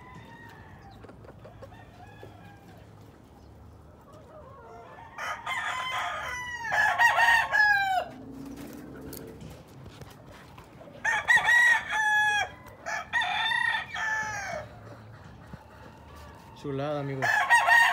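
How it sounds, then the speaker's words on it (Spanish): Claret rooster crowing repeatedly at a market stall beside its claret hen, several loud nearby crows with clucking between, and someone briefly speaking. "Un gallo claret con su hija claret."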